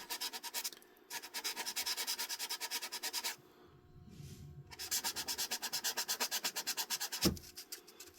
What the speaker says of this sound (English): it's just a matter of doing some very light sanding and keeping it very focused on the spot that I want to clean up.